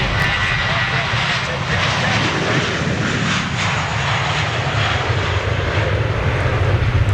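A Boeing 747 jet airliner on its final flight roars steadily, a loud broadband rush of engine noise with a low rumble that holds without break throughout.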